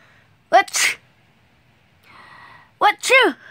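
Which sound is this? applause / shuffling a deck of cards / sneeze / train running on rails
sneeze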